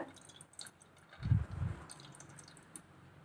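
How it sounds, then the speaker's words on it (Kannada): Water draining from soaked moong dal in a sieve, faint drips and a short wet squishing burst near the middle, quiet and close with no voices. "ಇದ್ರೊಳಗಿಂದ ಪೂರ್ತಿ ನೀರು ಬಸ್ತೈತ್ರಿ"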